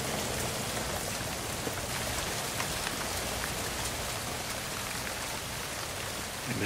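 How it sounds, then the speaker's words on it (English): Steady rain falls outdoors, a dense even hiss of drops hitting surfaces that stays constant and fairly soft from start to finish, with no voices. "I like the rain."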